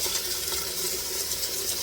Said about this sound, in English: we're going to fill this up with some water